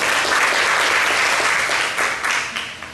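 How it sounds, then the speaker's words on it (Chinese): Audience applause at a community college Taiwanese poetry chanting class event, a dense, loud burst of clapping that swells and then gradually tapers off. "我们现在就用热烈掌声来欢迎老师"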